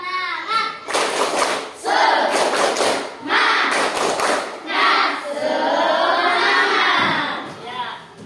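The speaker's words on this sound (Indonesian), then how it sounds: "Tepuk semangat." Primary-school class performing a rhythmic clapping chant together, with bursts of hand claps and taps in a steady pattern mixed with children's voices, loud and close.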